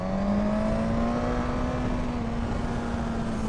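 A Suzuki GSX-S 1000 motorcycle engine pulls hard from around 6,000–7,000 rpm on a winding country road, a loud, steady, close engine drone with a slowly rising pitch and no speech over it.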